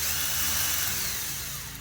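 A power drill spinning steadily, used on a dash rebuild for an XV920 motorcycle, with a continuous loud motor whine that eases slightly toward the end, no voices.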